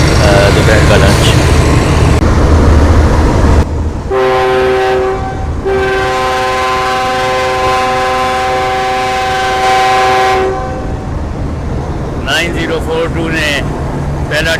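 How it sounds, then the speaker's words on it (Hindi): Two long departure horn blasts from a Greenline train sound loud and steady at Bahawalpur station, the first and second separated by a short gap, with station bustle and people talking before and after. "पहला डिपार्चर हॉर्न दे दिया भावलपुर से रवानगी का, और दूसरा भी दे दिया"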